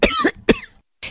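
Two sharp, close coughs from someone with a cold, in quick succession, followed by a brief short breath or third cough after a pause.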